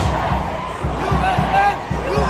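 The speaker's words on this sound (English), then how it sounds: "They start chanting USA." A street crowd chanting USA in a rhythmic, repeated pattern, voices massed and fairly close, with steady thumping beats marking each chant.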